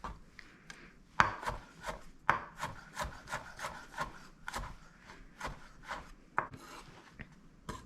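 A knife smashing food down on a board while cooking seared salmon and egg fried rice: a series of irregular sharp thumps and scraping rubs, close and fairly loud, with no talking.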